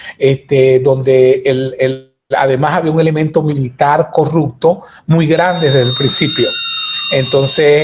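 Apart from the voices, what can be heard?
alarm going off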